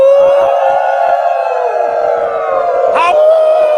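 Several people imitate a wolf howl together, a loud sustained rising and falling vocal wail that swells near the end, with crowd noise underneath.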